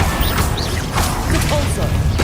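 Depulso spell cast in the game Hogwarts Legacy, a burst of magical whooshes, thuds and crashing impacts with chiming sparkle, loud and close amid game effects.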